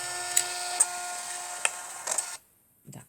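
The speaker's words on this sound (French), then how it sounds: "je vais essayer d'imprimer une photo" A Niimbot B21 label printer prints a photo with a steady mechanical whir broken by several sharp clicks, then stops, leaving quiet before a faint final rustle.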